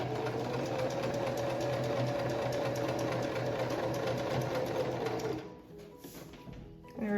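A sewing machine stitching along the edge of a fabric superhero mask, running in a steady fast whirring hum for about five seconds before stopping, followed by faint handling noises.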